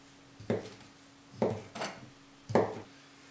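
Small sausages sliced into bite-sized chunks with a knife on a cutting board, four distinct close chopping knocks spaced about a second apart over a faint background hum, with no talking.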